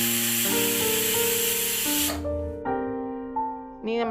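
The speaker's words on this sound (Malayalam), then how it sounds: "ഇത് ഹൈ ഫ്ലെയിമിൽ ഒരു വിസിലും സിം മോഡിൽ ഒരു വിസിലും അടിക്കുന്നുണ്ട്" A pressure cooker holding chicken curry vents a loud, continuous hiss of escaping steam that cuts off abruptly halfway through, while steady tonal music carries on and fades afterward.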